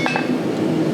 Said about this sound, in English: the first thing we're going to do here is drive these short drifts into here